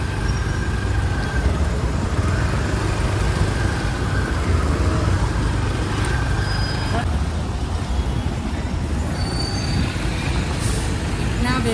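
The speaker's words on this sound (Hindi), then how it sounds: "ट्रैफिक भी बहुत ही जाम है" Trucks, buses and cars rumble in a traffic jam on a rough, muddy road in Gujarat, with a steady engine drone, an air-brake hiss and voices in the background.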